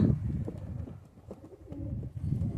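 Pigeons at a backyard pigeon loft coo softly in low, rolling, repeated phrases, several murmuring calls overlapping close by at a faint level with no talk.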